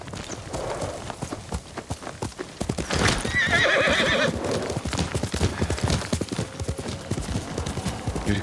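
Horse in the Ghost of Tsushima game neighs loudly in a burst mid-clip while hooves clip-clop steadily throughout, close and prominent over a busy game soundscape.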